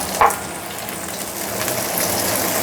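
Leeks tipped into a hot pan of sautéing ingredients for braised pork leg with pork sinew and sea cucumber, giving a brief loud burst of sizzle that settles into a steady, close, dense frying hiss.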